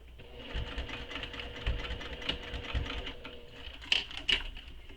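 A sewing machine hums steadily as it top stitches around a handbag, a close, continuous mechanical whir with a few sharp clicks near the end.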